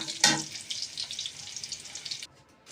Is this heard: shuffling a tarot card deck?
no